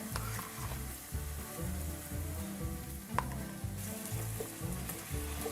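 Tomato paste sizzling and being stirred into shrimp jambalaya: an even, moderate frying hiss with soft music underneath and a single sharp clink near the middle.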